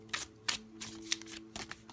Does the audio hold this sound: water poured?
no